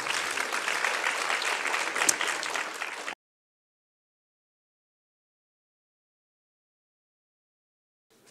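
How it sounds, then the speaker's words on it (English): Conference audience applauding for about three seconds, a dense steady burst of many hands that cuts off abruptly into silence for the rest of the clip. "Another round of applause."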